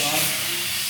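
A handheld steamer hisses steadily as protective PPF wrap is peeled off a car in a detailing shop, a short close burst of broadband hiss with a faint low hum beneath.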